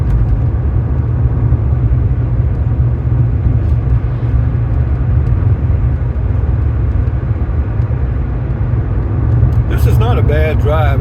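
A Buick car driving on the road, heard from inside as a steady low engine and tire rumble that runs unbroken throughout, with a brief brighter tonal sound near the end.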